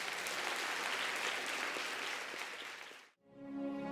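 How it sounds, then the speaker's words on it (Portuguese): A church congregation at a Sunday service applauds in a loud, sustained burst of dense clapping that fades out near the end, followed by soft background tones. "Suas palmas exaltam a Deus."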